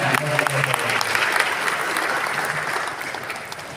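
An audience at the inauguration of the PPS Putra Betawi board bursts into applause, a brief, steady wash of clapping that fades gently toward the end.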